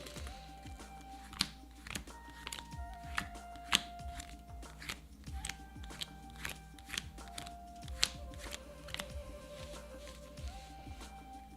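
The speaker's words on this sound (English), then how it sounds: "And then we'll shuffle the old deck." A deck of game cards for a solo tabletop campaign being shuffled by hand, with repeated close crisp riffles, snaps and taps in an uneven rhythm, quiet and without talk.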